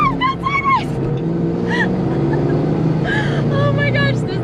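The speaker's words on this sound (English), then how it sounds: "Oh my gosh, this car is so fun. I should get into drifting." A Fox Body Ford Mustang drifts with a loud, sustained engine roar and wavering revs. Tyre squeals rise and fall throughout, close to the listener.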